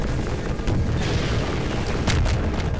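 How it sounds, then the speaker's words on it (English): An enemy fires at the player in Half-Life 2, sharp booming shots breaking through a dense, noisy game soundscape, several reports spread over a few seconds with no talk. "he's shooting at me"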